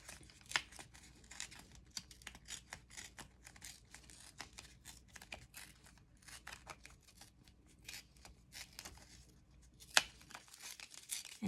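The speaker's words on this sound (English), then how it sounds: "Let's tear it first." Paper face cutout torn by hand for an art journal, giving soft crackly ripping and crinkling in short bursts, quiet and close, with a sharper snap near the end.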